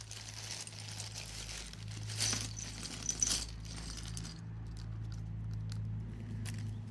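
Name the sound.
plastic model parts poured out of a box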